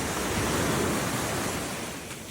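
Small sea waves wash onto a beach in Phuket after a storm, making a steady, broad rushing surf that stays loud and continuous throughout.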